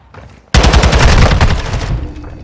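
Automatic gunfire in Call of Duty: Modern Warfare 2 bursts in abruptly after a quiet moment, a loud rapid rattle of shots lasting over a second before trailing off.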